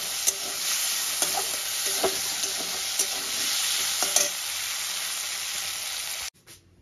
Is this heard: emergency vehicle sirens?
no